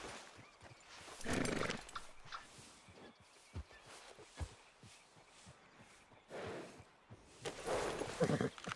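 Horse hooves and whinny from Red Dead Redemption 2, soft clip-clop steps plodding along with a few louder snorting, whinnying bursts, fairly quiet with game ambience.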